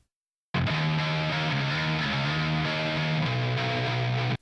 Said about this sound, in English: So in this second track I have used a lot of distortion.